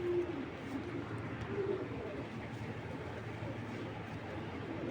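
Racing pigeon giving quiet, low cooing calls in a few soft bursts, faint and somewhat distant against steady background noise.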